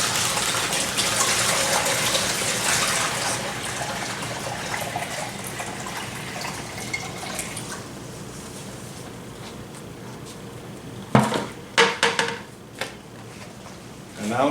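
Water pours and gushes into a gold recovery table, loud and splashy at first, then settling into a softer trickle, with a few sharp knocks and clatters near the end.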